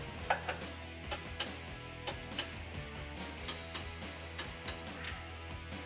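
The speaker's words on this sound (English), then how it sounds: "I can torque them to 122 foot-pounds" A torque wrench clicks and ratchets while tightening the upper control arm bolts on a 2004-2019 Ford F150, giving a string of close, sharp metallic ticks at an uneven rhythm over a low hum.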